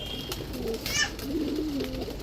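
Soft, low pigeon coos, a couple of short rolling calls, over a faint background hum, from pigeons at a pigeon sale, including a Sundari Jira-throat male.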